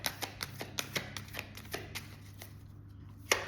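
Tarot cards being shuffled by hand: a quiet series of crisp, regular card flicks and riffles, then a pause and one final sharper snap near the end, with no talking.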